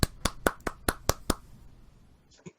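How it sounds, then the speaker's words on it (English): Seven sharp, evenly spaced hand claps ring out close and loud from a brothel, then fall away into quiet with a faint extra tap near the end; no cheering stands out. "hurrah coming from the brothel and a bunch of claps"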